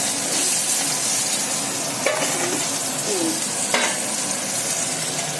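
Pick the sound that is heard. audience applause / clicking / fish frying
fish frying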